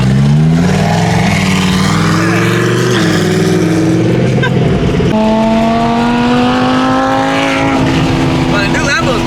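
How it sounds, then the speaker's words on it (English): Several loud Lamborghinis rev and accelerate through a canyon, the engine pitch climbing and shifting in sweeping glides close by, with a continuous aggressive exhaust roar throughout. "All these Lambos are super freaking loud."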